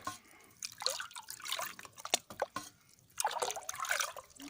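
Liquid fertilizer being stirred into water in a container for watering cucumbers, a soft sloshing and dripping with bursts of swirling liquid at the start and end, fairly close and moderately quiet, with no talking.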